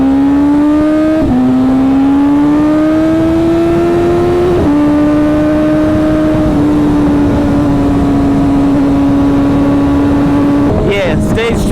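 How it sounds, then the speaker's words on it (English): A 2024 BMW M1000RR motorcycle with a stage 2 tune revs its exhaust loudly and steadily, pitch climbing in long pulls with a couple of throttle blips, then a sharp burst near the end. "Exhaust sounds so good."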